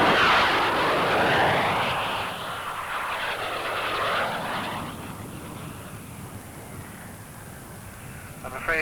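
RAF display team aircraft roar overhead as they break formation and come in to land in bad weather, a loud sweeping engine rush that swells and fades, then settles into a lower distant drone.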